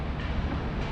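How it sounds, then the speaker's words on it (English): A train rumbles through South Brisbane railway station in Brisbane, Australia, a dense continuous low roar of rolling carriages heard up close, with no talk. "today we find ourselves at South Brisbane railway station"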